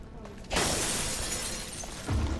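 Glass shatters loudly in the video game Resident Evil Revelations 2, a sudden bright crash about half a second in that rings and sprinkles on for nearly two seconds and ends in a low thud.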